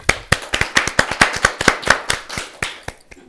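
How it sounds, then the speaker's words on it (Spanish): A small audience at a talk gives a round of applause, sharp close hand claps in a quick, somewhat rhythmic series that thin out and stop near the end. "así que le vamos a dar un aplauso a todos"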